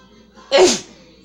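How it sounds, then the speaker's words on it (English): A single close, sharp sneeze bursts out over quiet background, loud and brief, then fades quickly. "I'm gonna sneeze"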